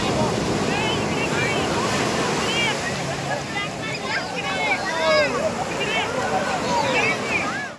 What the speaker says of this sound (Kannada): Look at the waves.